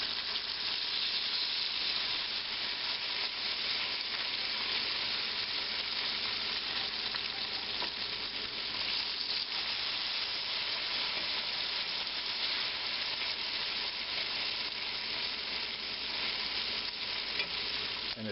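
Fresh, uncured bacon collops frying in a hot pan give a steady, continuous sizzle and crackle that stays even and close throughout, with no voices.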